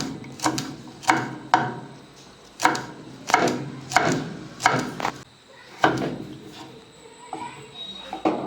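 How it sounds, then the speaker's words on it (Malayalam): A knife cuts whole okra into thin round slices on a board, giving a series of sharp, close chopping knocks in an irregular rhythm with short pauses between cuts. "ഇതേപോലെ ചെറിയതായിട്ട് കനം കുറച്ച് വട്ടത്തിൽ അരിഞ്ഞെടുക്കാം"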